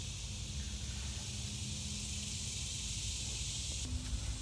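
Penetrant sprays in a steady, faint hiss onto the oil pan of a 2003 Chevrolet Suburban, with a low background hum and no talking.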